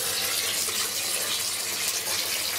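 Running water pours in a constant, bright, hissing rush close by in a rat's enclosure, steady throughout with no voices.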